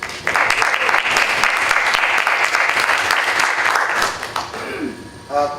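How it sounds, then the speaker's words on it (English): A conference audience gives a big round of applause, loud sustained clapping filling the hall for about four seconds before it tapers off and a voice returns. "So a big round of applause for"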